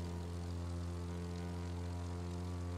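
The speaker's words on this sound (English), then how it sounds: "Alright, let's see if we can actually switch to plane here." Propeller plane flying in The Crew 2 video game, a steady, loud droning engine hum with strong even harmonics, continuous and alone without talk.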